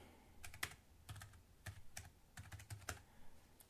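Keys are tapped on a computer keyboard to enter a command, a quick run of light, close clicks in short uneven bursts, quiet and alone.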